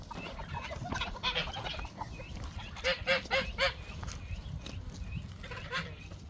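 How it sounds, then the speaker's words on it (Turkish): Poultry calls in a farmyard chicken coop, with a rooster crowing in short bursts over constant low background noise and faint clucking throughout. "Yine orada bir tane horozumuz var."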